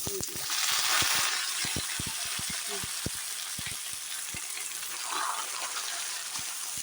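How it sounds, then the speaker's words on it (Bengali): Cauliflower, squash and pointed gourd hit hot tempering oil and set off a loud hissing sizzle that settles into steady frying, with scattered clicks of utensils and a voice speaking. "এখন দেবো সবজি দেখো ফোড়নটা হয়ে গেছে এখন ফুলকপি কোয়াশ পটল সব"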